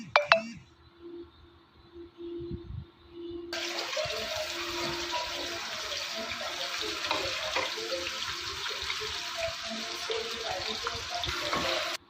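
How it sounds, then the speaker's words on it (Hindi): Chopped onion, potato, tomato and green chilies go into hot oil together and fry with a steady, broad sizzle that holds evenly for several seconds after a few initial clatters. "ऑयल जैसे ही गर्म हो जाएगा तो हम अपने कटी हुई सारी चीज़ें एक साथ ही इसके अंदर डाल देंगे।"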